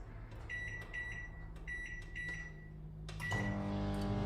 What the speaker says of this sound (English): So I'll just cook it using the microwave, guys.